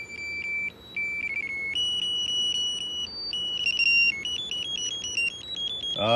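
Electronic 2000s-era car alarm cycling through shrill tones, stepping between pitches in a repeating pattern, loud and continuous over a low background hum.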